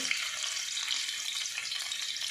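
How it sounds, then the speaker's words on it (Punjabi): Paneer frying in a pan for palak paneer, a close, steady crackling sizzle with no voices over it. "ਹੁਣ ਅਸੀਂ ਪਨੀਰ ਨੂੰ ਵੀ ਥੋੜਾ ਜਿਹਾ ਫਰਾਈ ਕਰਦੇ ਹਾਂ"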